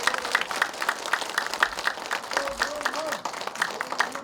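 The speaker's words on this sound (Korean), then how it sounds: "정확한 정보 주셔서 감사하다고 박수 한번 쳐드릴까요?" A talk concert audience claps in thanks for a guest doctor. The applause is dense and continuous, with crowd murmur and voices talking underneath.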